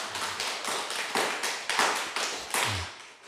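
Church congregation clapping during a harvest thanksgiving service, a string of loud group claps landing in a rough, uneven rhythm about four times a second, each burst fading quickly.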